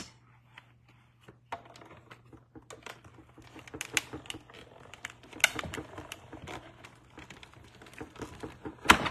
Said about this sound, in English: So I will put in this piece of vanilla cardstock in the folder, and we will run this one through next.